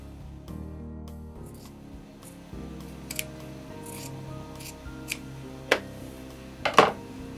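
Scissors snip along T-shirt fabric to trim a quarter-inch seam, quiet irregular cuts over a faint low hum, with a few sharper clicks of the blades closing toward the end.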